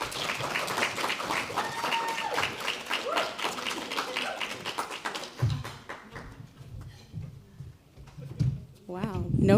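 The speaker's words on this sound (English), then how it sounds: "So round of applause for Liz and Alyssa." Conference audience applauding two presenters at a family and research gathering, a dense patter of clapping that fades after about five seconds, followed by people talking close by.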